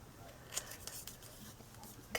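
Quiet snips of scissors cutting paper scraps for a craft, several quick cuts close by amid soft rustling, very faint overall.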